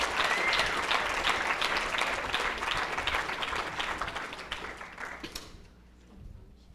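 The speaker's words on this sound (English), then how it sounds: "Yeah, clap, man, give it a hand." An audience gives a sustained round of applause, loud and dense at first, then thinning and fading away over several seconds.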